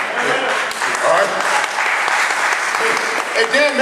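Crowd applause at a non-partisan county transportation tax rally, a steady dense wash of clapping throughout with cheers and voices mixed in.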